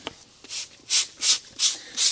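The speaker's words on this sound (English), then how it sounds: "Spray down the tire first because I don't like the marks that it leaves on tires." Five short hissing sprays from a trigger bottle come in a steady rhythm, misting liquid onto a Tesla Model 3 Performance tire up close.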